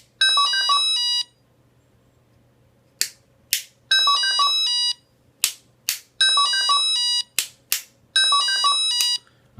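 A Menvier alarm panel sounds its chime as a repeating multi-tone electronic melody, four bursts separated by silences and sharp clicks, close and clear with no talking.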